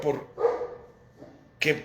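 Dogs bark in short bursts, three or four yaps close by, heard over someone talking.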